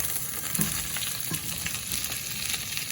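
Onions with green chilies and curry leaves frying in a pan for a chicken curry, a steady close sizzle with a few soft scraping stirs, no talking.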